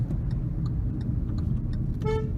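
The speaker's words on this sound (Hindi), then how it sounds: "Now we are driving eight 55." A Hyundai Venue S 1.2 petrol car cruising at 55 gives a steady, even low rumble of road and engine noise inside the cabin. A faint regular clicking runs through it, and a short tonal beep comes near the end.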